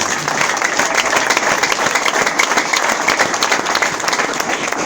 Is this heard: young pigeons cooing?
no